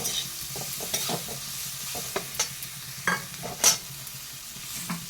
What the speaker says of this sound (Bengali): এবার ভালোভাবে একটু মশলার সাথে ভালোভাবে এটাকে মিশিয়ে ভালোভাবে একটু নাড়াচাড়া করে নিচ্ছি